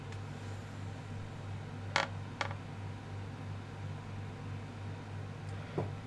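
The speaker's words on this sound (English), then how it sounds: "Can turn this aircon off now." An air conditioner runs indoors with a steady low hum and broadband hiss, broken by a few brief creaks and clicks.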